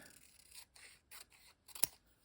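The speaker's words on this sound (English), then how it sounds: "these ones I think I just will cut with my scissor" Scissors snip through paper in several short, quiet cuts at an uneven rhythm, close by, with one sharper final snip and no talking.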